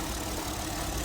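The 3-litre engine of a 2017 Kia K7 car runs with a continuous, fairly loud mechanical drone and some knocking texture, with no talk.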